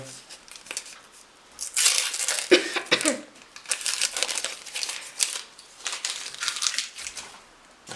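Panini Euro 2020 sticker pack wrappers crinkle and crumple close up in bursts of papery rustling and tearing, with brief pauses between handfuls.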